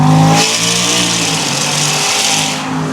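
A twin-turbo Ford F150 Raptor with an 800 whp swap accelerates hard at a raised boost setting in a tunnel, giving a loud, rising roar with a rushing, hissing top end that echoes off the walls.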